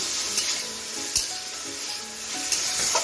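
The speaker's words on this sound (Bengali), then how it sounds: "3 থেকে 4 মিনিট সবজিটা গ্যাসটা রেখে রেখে ভেজে নিচ্ছি।" Vegetables frying in a pan with turmeric for vegetable dal: a steady close sizzle with soft rubbing stir strokes and three brief, sharp scraping knocks spaced a second or so apart.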